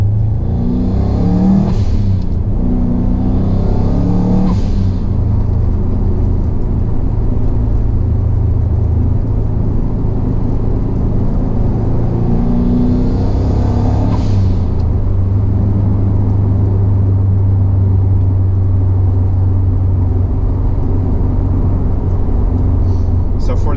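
A Subaru WRX engine rumbles loudly up close with a couple of rising revs, and a voice talks over the steady low drone.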